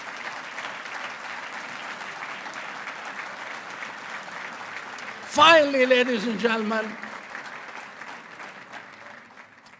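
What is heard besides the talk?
audience applause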